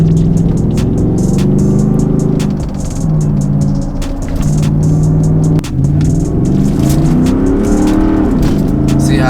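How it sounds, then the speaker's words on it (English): A lifted Ford F150 with a 5.0 engine accelerates hard, its loud, close engine note climbing in pitch, then dropping abruptly at each aggressive gear shift before rising again across several gears. "like you can definitely tell when it's shifting from first to second, or either second to third, like it just jumps trying to leap into the next gear"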